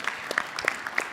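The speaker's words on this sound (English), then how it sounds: "give yourself a round of applause" A workshop audience at an innovation summit gives brief, light applause, sparse scattered claps heard indoors at moderate volume.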